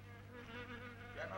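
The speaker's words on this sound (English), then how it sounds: "Insects singing about the extermination of man." Insects buzzing in the 1968 Japanese film Genocide, a steady droning hum with wavering higher tones, continuous and fairly close, rising slightly near the end.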